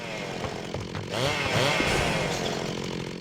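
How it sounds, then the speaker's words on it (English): A chainsaw-like whir drones steadily in the Messiah video game, a gritty mid-level buzz that swells slightly, heard alone without voices. "that chainsaw sound you're hearing is not the main problem"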